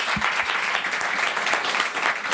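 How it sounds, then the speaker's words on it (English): A live audience at a podcast recording claps steadily throughout, a dense, even patter of many hands at close range with no voices over it. "Can you please give yourself a round of applause?"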